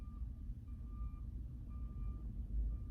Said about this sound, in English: You hear that truck beeping?